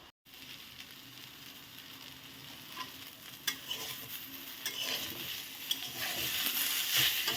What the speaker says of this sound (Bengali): তো এটাকে আমি এখন নেড়ে চেড়ে ভেজে নেব।